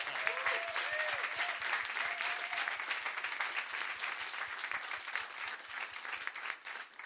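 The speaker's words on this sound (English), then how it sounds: "In fact, yes, let's give them a round of applause." A Green Party campaign launch crowd in Hackney applauds party staff and volunteers, a warm steady round of clapping with a few distinct rhythmic claps up close and brief voices early on, tapering slightly at the end.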